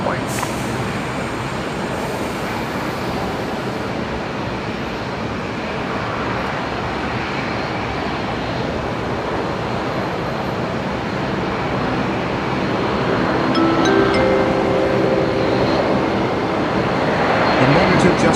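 A Qantas 747 rolls down the runway at Brisbane Airport at night, a steady broad jet roar heard from a distance that swells slightly toward the end, with other tones and talk around it.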